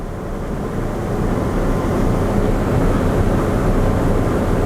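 A Bella 700 Raid hard-cabin boat with a sandwich-layered hull cruising on the water at 3,500 revs, giving a steady, muffled broadband engine drone with wind rush, continuous and fairly loud with no talk.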